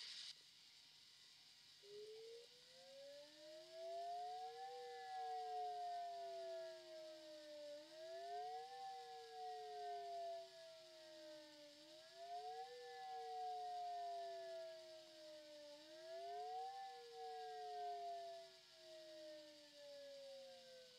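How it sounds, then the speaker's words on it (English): A homemade rotating weather siren called the Storm-Seeker, marked with civil defense stickers, runs an attack sequence: a loud, steady wail rising and falling in repeated cycles about every four seconds, heard alone with no talking. "I'll do it rotating with the attack sequence, just so you can see it in action and hear it at the same time"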